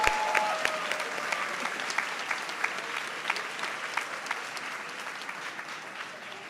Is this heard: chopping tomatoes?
no